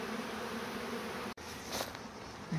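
Dense, steady buzzing of many bees around a hive box fills the clip close by, broken by a single sharp click midway.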